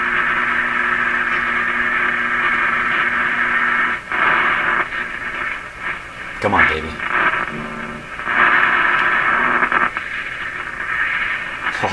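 An RCA Victor A23 tube radio tuned across the AM band gives a steady wash of hiss and static with humming tones. Whistles and warbling sweeps come as the dial moves, and a voice speaks briefly over it.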